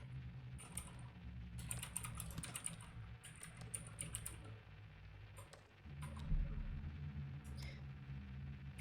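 Rapid keyboard typing in a video game, a steady stream of close, crisp key clicks with brief pauses, running over a low droning game background.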